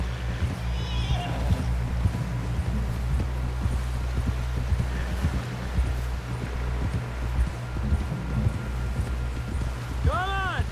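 Horse hooves clip-clopping at a steady gallop in the Red Dead Redemption 2 video game, a dense rhythmic thudding that runs throughout over a low rumble and rustling, with a brief rising whistle-like tone near the end.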